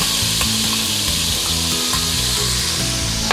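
Garlic and ginger sizzling loudly in hot oil in a pan for a currywurst sauce, a close, steady frying hiss with scraping stirs throughout and no talk.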